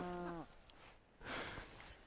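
A cow gives a short, clear moo at the start of an outdoor scene in the Lake District, then a softer breathy snort follows after a pause.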